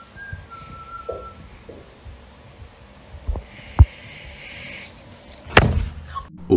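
Eerie whistling sounds in a quiet interior in a few thin, wavering tones, joined by scattered knocks and tapping, a sharp thud, and a louder bang near the end.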